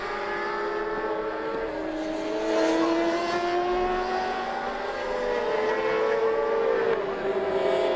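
Engines of racing motorcycles at a French superbike race in Albi whine and shift pitch as they pass, high revving tones rising and falling, moderately distant, with no talk.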